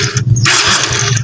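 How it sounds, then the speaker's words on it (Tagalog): Motorcycle engine revved in a short burst after a fresh top overhaul, a loud close rumble rising and dropping steadily with no talk over it. "Paparedundo lang natin yung makina."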